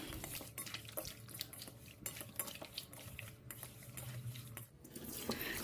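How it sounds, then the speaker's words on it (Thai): Catfish pieces being rinsed in plain water in a bowl, giving a continuous busy clatter of wet handling, light sloshing and occasional knocks against the container, close and low in level, with no one speaking. "จากนั้นนำไปล้างน้ำเปล่าสัก2-3น้ำ"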